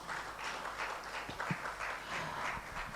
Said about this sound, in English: Please, can you start clapping for them as they stand?